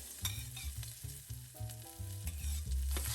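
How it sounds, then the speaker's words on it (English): Aromatics stir-frying in hot oil in a wok over medium-low heat, a dense crackling sizzle with quick stirring strokes, close up, brief, with faint tonal music underneath. "Stir fry to release the fragrance."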